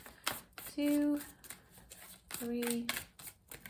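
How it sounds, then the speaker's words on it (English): Tarot cards shuffled in quick riffling bursts, close and soft, with someone talking between and over the shuffles. "Three more shuffles."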